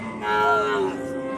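A Holstein Friesian cow gives a single short, strong moo of under a second at a crowded cattle market in Bangladesh, close by, with steady market murmur around it.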